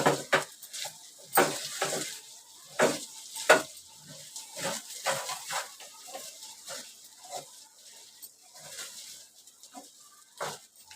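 Sabudana tumbles into a hot pan and is stirred, giving a string of soft scraping and sizzling bursts at an irregular rhythm, fairly close and quiet, fading toward the end.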